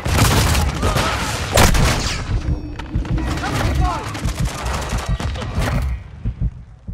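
Call of Duty: Modern Warfare 2 multiplayer combat: loud bursts of rifle fire and heavy thumps up front, fading toward the end, with voices and game callouts over the shooting.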